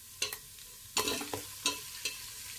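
Tomatoes and spices cooking in a pan for dry mutton, with short scraping stirs and bursts of sizzling in a few distinct strokes, fairly quiet and close.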